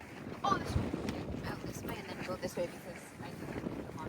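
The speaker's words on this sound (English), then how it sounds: "It's the plastic on the cover of the yurt flapping in the wind." Plastic sheeting on a yurt cover flaps and slaps in strong wind on a homestead, irregular rustling gusts buffeting the microphone while a person talks over it.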